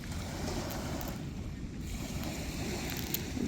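Beach scene with steady wind rumble and low, continuous surf wash, no clear voices, constant and fairly close throughout.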